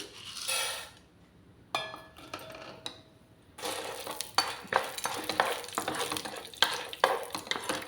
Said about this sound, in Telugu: ఆయిల్ వేసుకొని శనగపప్పు వేయించేసుకోవాలి.